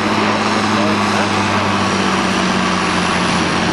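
Valtra T160 tractor engine working hard during a tractor pulling run, a loud, steady drone held throughout with a low harmonic hum and broad noise, with crowd voices and commentary mixed in.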